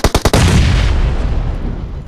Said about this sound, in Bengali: আরে অ্যাকুরেট গ্রেনেড